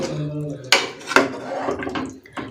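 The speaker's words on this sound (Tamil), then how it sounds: "தண்ணி சேர்த்துட்டு இதை மிக்ஸ் பண்ணி விட்டுக்குருவோம்" A spoon stirs beef biryani masala in a metal pot after water has been added, giving a few sharp clanks and scraping knocks against the pot amid wet sloshing.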